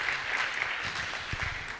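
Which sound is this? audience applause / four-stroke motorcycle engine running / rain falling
audience applause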